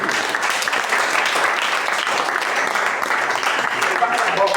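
A church congregation applauds continuously, a dense steady wash of clapping from many hands throughout, fairly loud, with voices mixed in.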